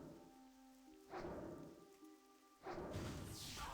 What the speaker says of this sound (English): It was grey, and then all of a sudden started raining.